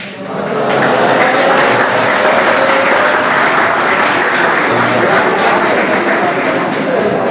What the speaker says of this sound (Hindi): तालियां तो आपको पता है जो बजाते हैं तो सही बात नहीं है, तालियां नहीं बजानी चाहिए